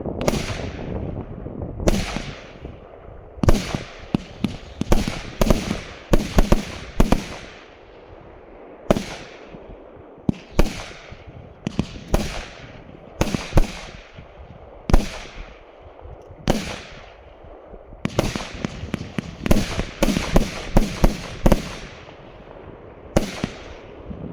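Brocade War Klasek C8825BR 88-shot 25mm firework cake fires a long volley of loud, sharp bursts in quick irregular clusters with brief pauses, crackling tails trailing each salvo.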